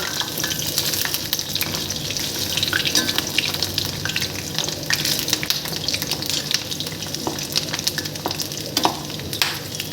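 Fritters (bora) bubble and crackle in hot oil, a busy close-up sizzle with scattered pops and light stirring, steady throughout.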